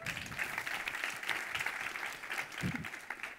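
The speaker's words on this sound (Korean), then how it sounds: "이곳 강당의 함성 소리가 들리네요" Faint applause and cheering ring out from a crowd in an auditorium, a steady wash of clapping with a few louder bursts, heard at a distance.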